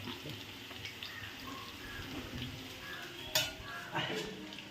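Curry leaves frying in hot oil in a pan at home, a soft, steady sizzle with faint stirring and a couple of short metallic taps near the end.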